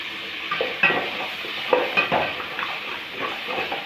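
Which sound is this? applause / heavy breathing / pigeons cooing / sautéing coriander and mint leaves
sautéing coriander and mint leaves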